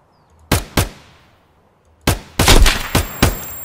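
Sharp gunshots in Escape from Tarkov: two quick cracks, a pause, then a louder cluster of four or five shots, each with a short echoing tail over quiet surroundings.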